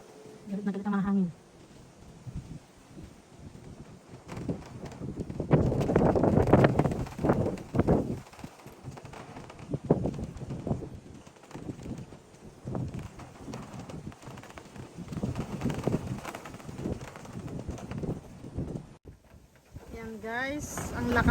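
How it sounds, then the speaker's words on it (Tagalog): Strong gusts from Typhoon Shanshan roar and buffet unevenly, swelling and easing in broad waves, with a few faint background sounds mixed in. "Galit na galit ang mga hangin."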